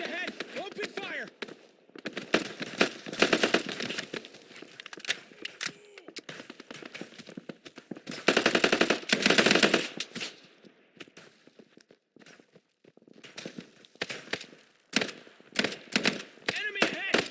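Machine gun fire in the Delta Force video game, rapid bursts of automatic shots in repeated clusters over about seventeen seconds, loudest in a sustained burst midway, with game voices shouting over the firing.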